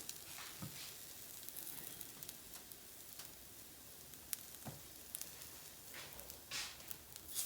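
Butter sizzles softly in a pan of cooked, softened onions, a faint, continuous hiss with occasional small pops and crackles.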